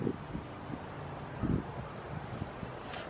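Wind blows across an outdoor microphone, a faint, steady rush broken by a few soft gusts and buffeting thumps.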